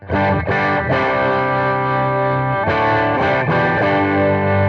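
Crunchy overdriven electric guitar through a BOSS Katana Gen 3 amp on its Pushed channel, a few strummed chords ringing out loud and sustained, with no talking.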